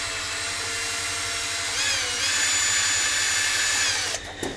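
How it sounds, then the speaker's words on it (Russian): A power drill drives self-tapping screws with a steady, loud whirring drone that rises in pitch partway through, then cuts off with a brief rattle near the end. "До сюда я буду закручивать все саморезы."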